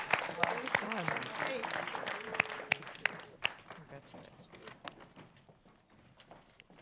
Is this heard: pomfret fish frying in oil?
no